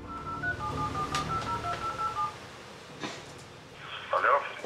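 Telephone keypad tones and a short ringing signal before a call is placed, several clear beeps followed by brief electronic tones, heard near and fairly loud with some speech-like background.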